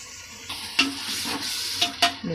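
Vegetables sautéing in oil for vegetable biryani, a steady sizzle punctuated by a few sharp stirring scrapes of a spatula in the pot.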